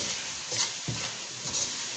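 Aloo matar masala of potatoes and peas roasting in a pan, giving a steady soft sizzle with a few light stirring scrapes and dull thumps, close up and without voices.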